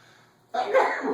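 A single sudden sneeze bursts out close by in a quiet classroom lesson, loud and breathy, following a near-silent moment.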